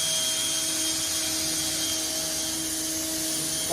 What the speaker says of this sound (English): Get my drill, make a pilot hole